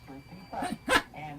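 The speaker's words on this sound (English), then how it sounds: "that's a dog barking" A dog barks a couple of times at close range, short sharp yelps mixed with a voice talking over and between them.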